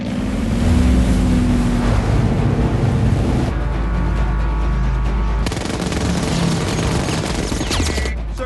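A warship's engines run at flank speed, making a loud, continuous roar with churning water and surf, mixed with heavy battle noise and bursts resembling gunfire.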